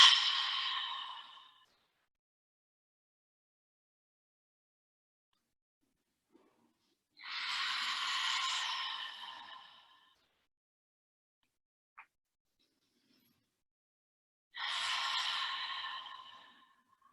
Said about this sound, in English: Breathing in through the nose, exhaling through the mouth.